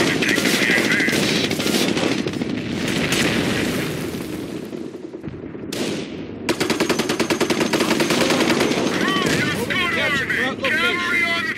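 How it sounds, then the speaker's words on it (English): Dense World War II battlefield gunfire in Company of Heroes: sustained machine-gun bursts and rifle shots crackle loudly, with booms and a sudden cut before a rapid rattling volley, under shouted soldier voices. "We're taking fire at this position!"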